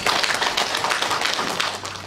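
Sustained applause from an audience at a Korean-Australian community gathering, a dense continuous patter of many hands clapping throughout, fairly close and loud.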